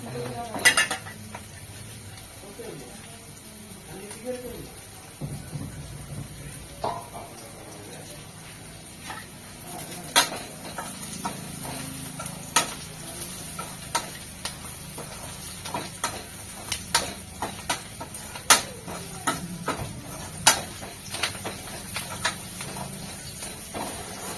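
Gobi 65 cauliflower fries and is stirred in a pan at home, with a soft sizzle under repeated metallic scrapes and clinks of a spoon against the pan, with sparse quiet sounds between.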